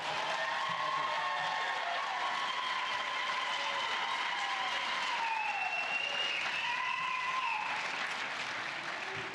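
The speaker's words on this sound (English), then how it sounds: "So parents, now we're gonna clap for our" Parents at a fifth grade continuation ceremony applaud their students in a sustained, even wash of clapping that fills the room, with faint tonal sounds layered over it.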